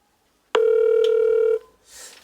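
A single steady telephone tone sounds for about a second as a call is placed, abrupt start and stop, clear and close, followed by a faint hiss.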